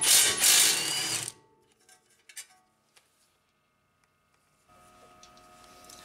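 A ratchet loosens the 17mm brake caliper bolts on a Honda Accord, giving a loud, rapid burst of ratcheting clicks for about a second, then a few sparse, quieter clicks and taps in near silence.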